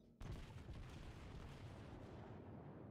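Battleship main guns firing in World of Warships, a sudden heavy boom followed by a long rumbling roll that fades slowly over a few seconds, quiet in level overall.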